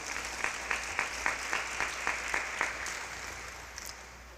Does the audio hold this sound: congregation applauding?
yes